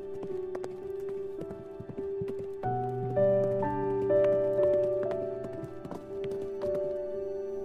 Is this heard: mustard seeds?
no